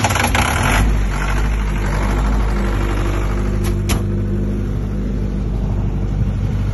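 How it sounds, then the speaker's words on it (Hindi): A 30 kVA soundproof diesel generator set drones steadily nearby, a deep constant rumble with a faint higher hum, running without pause. "see how to start and operate the generator set"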